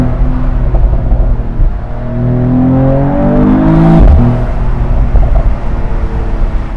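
2021 Mercedes-AMG E53 convertible with its 3-liter inline-six and EQ Boost pulling hard, a loud, close engine note climbing through the revs with a rising rumbly drone and a brief dip partway through.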